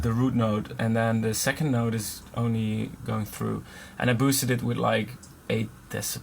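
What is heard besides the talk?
None of the usual background noises is heard.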